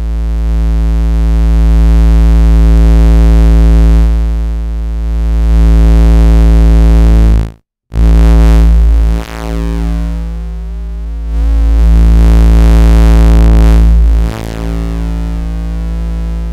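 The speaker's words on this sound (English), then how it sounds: "the saturator on the Lyra is really powerful" A dense, buzzing drone from a Lyra-8 synthesizer's built-in saturator, with gritty saturation, sustained loudly and shifting in tone, broken by a brief silence midway.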